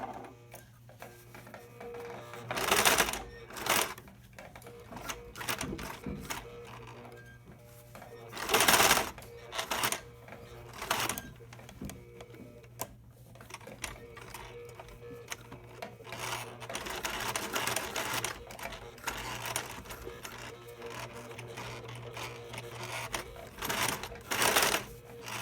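A sewing machine running a blind stitch along a denim jean hem, in repeated bursts of rapid mechanical stitching separated by short pauses, close and fairly loud.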